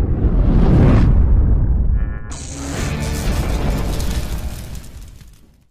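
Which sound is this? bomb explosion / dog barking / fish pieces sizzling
bomb explosion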